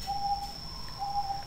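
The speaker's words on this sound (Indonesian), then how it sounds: "dengerin dulu tuh suara perkutut yang lagi kuar-kuar" A zebra dove (perkutut) cooing outdoors, two soft drawn-out tonal calls spaced about a second apart, faint and distant over a low steady background hiss.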